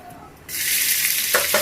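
Cumin seeds hit hot oil in a kadhai and burst into a loud, steady sizzle that keeps going, with a brief stirring scrape near the end.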